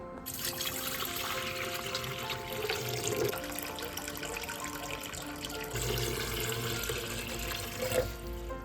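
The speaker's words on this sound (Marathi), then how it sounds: "मी सुद्धा आता आधी ह्याच्यात पाणी टाकते" Water pours steadily into an electric kettle, a continuous close splashing trickle that shifts in tone as it fills.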